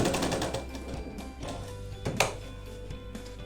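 A sewing machine runs a continuous stitching seam along the curved neckline of a Rajputana-style blouse, a steady close mechanical whir with a brief sharper clack near the end and no talk.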